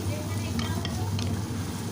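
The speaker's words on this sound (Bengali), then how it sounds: "গ্যাসের ফ্লেমটা লো রেখেই ভাজছি ড্রাই ফ্রুটগুলো" Almonds, cashews and pistachios frying in ghee over a low gas flame, a soft steady sizzle with a couple of faint stirring clicks and a low background hum.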